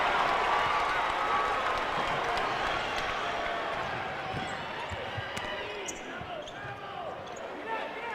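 Basketball arena crowd at a Duquesne Dukes home game against St. Bonaventure, a steady loud roar of cheering and applause through the whole stretch, with a commentator's voice over it.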